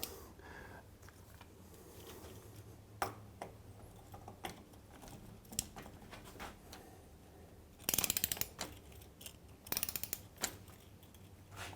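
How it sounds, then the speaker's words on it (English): Ratcheting wrench clicks on a Moto Guzzi Le Mans camshaft nut, with short bursts of rapid ratchet clicks near the end amid quiet workshop handling noises and occasional knocks, close by. "the camshaft nut, which is the final one that I'm going to do, has to be done up to a staggering 108 foot-pounds"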